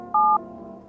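A single short two-tone telephone dialing beep sounds clearly in a video game, followed by a faint lingering hum.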